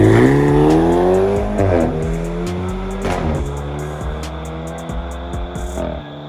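BMW F36 428i fitted with a catless downpipe, its exhaust roaring loud and close through rising revs and gear changes, with sharp pops and crackles between pulls.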